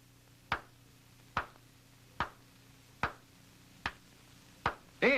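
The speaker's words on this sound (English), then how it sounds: "or when I clap." Single hand claps in a quiet room, seven sharp crisp claps at an even pace of roughly one every 0.8 seconds, close and distinct against a faint low hum.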